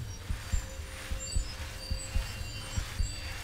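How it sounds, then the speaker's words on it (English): Slow, steady heartbeat thumps in the video game Skyrim, about eight low muffled beats over a faint hum, alone with no talking. "Listen to your heartbeat."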